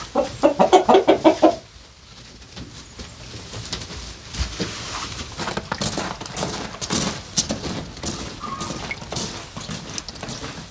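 Brahma hens in a warm, clean village coop cluck loudly in a quick rhythmic burst at first, then keep up softer scattered clucks and rustling nearby.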